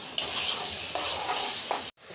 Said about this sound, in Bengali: আমরা হচ্ছে চিংড়িটাকে পেঁয়াজের সাথে পেঁয়াজ মশলাগুলোর সাথে ফ্রাই করে নিব